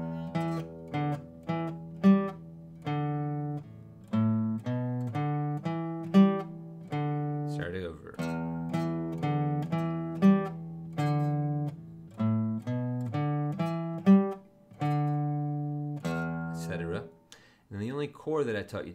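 An electric guitar plays a funky, staccato riff, repeated phrases of short muted notes with rhythmic accents, close and clean with no talk over it.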